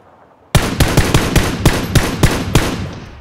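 Automatic weapon fire in a battle royale shooter, a sharp burst of about ten evenly spaced shots in quick rhythm, loud and close, with no voices over it.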